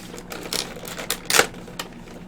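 New game controller unboxed from its official packaging, close-up crinkling, tearing and clicking of cardboard and plastic in quick irregular bursts, one louder rip near the middle, with no talking.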